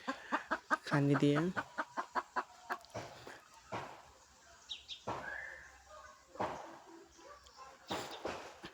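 Chickens cluck and call close by at morning feeding, short bursts scattered across the clip while someone talks over them.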